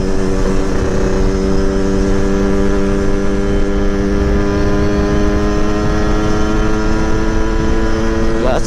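A Yamaha RX King two-stroke motorcycle runs at full throttle on a straight road in Banda Aceh, its engine whining in a loud, sustained high drone that climbs slowly in pitch throughout.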